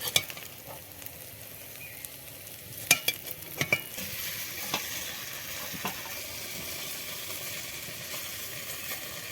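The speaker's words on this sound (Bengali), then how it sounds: "এই দেখো পনিরগুলো ভেজে নিলাম লাল লাল করে" Pieces of homemade paneer fry in hot oil in a pan, a soft, even sizzle near at hand broken by a few sharp clicks and knocks of stirring, with no speech over it.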